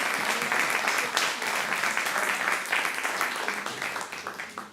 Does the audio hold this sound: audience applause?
yes